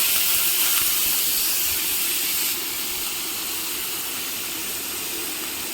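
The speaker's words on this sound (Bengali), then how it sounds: "প্রথমে কড়াতে সাদা তেল দিয়েছি হ্যাঁ এবার পেঁয়াজ রসুন আদা সব ভেজে নিচ্ছি" Onion, garlic and ginger frying in white oil in a wok for momo chutney, a loud steady hissing sizzle that drops slightly in level halfway through, with no voices over it.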